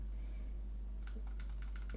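An Xbox One controller's top RB button, under repair, clicks several times in a quick, uneven series of small, close, crisp taps over a low steady hum.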